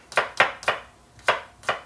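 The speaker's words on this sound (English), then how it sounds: "So let's chop the garlic" Knife chopping garlic on a cutting board for a ragu, five crisp close taps at an unhurried, slightly uneven pace.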